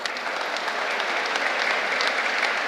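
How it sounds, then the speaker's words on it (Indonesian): A congregation at a Christmas Eve Mass applauds the health team and sacristans: steady, even clapping from many hands filling the church, moderately loud, without voices. "Untuk mereka kita ucapkan juga terima kasih dan tepuk tangan untuk mereka."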